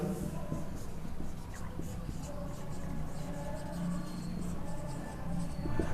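Marker or chalk scratching steadily across a board in a classroom, soft continuous rubbing strokes with small ticks, close and fairly quiet under a faint background hum.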